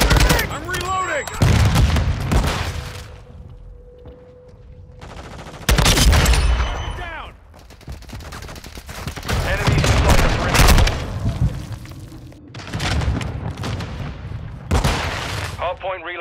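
Gunfire in the video game Call of Duty: Modern Warfare II comes as loud, dense bursts of automatic shots and heavy booms with short lulls between them, mixed with in-game voices shouting.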